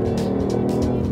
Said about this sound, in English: Yes, that's the sound of the three-cylinder